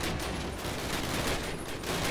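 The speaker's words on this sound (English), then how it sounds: "Machine guns." Rapid machine gun fire in the World War II video game Call of Duty: United Offensive, a continuous loud, dense burst lasting the whole short stretch with no talk.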